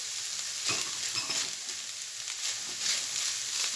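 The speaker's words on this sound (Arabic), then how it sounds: "نخلطو مزيان المكونات" Lasagna filling with chopped yellow pepper being stirred in a hot pan, a continuous soft sizzle with scraping strokes rising and falling on top, close and fairly quiet.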